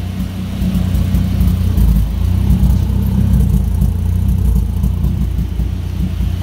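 A Honda Civic with a swapped F-series engine idles steadily with a low, even rumble, running smoothly and close by for the whole stretch with no voices.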